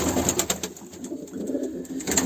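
Pigeons in a loft with healthy growing young coo softly and continuously, several birds close by in a dense, murmuring chorus with no talk.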